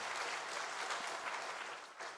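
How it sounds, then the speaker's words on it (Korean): Steady applause from a church congregation during a Sunday service, sustained throughout before tapering slightly at the end. "큰 박수로 우리 축복하겠습니다."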